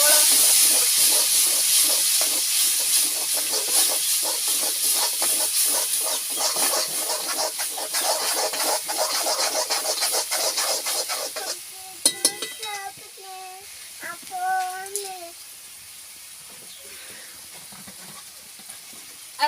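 Roasted eggplant oro mash hits a hot pan and sizzles with a loud, dense hiss that fades after about twelve seconds, followed by a few scraping stirs and clinks.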